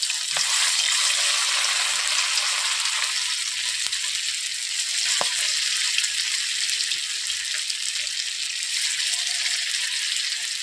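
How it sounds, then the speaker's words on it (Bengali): Spoonfuls of rice paste fritters with kulekhara leaves fry in oil in a wok over low heat, a continuous close sizzle with a few faint clinks, no voices. "এরপর বড়া ভাজা করার জন্য আমি অল্প অল্প চালের বাটা দিয়ে দিচ্ছি"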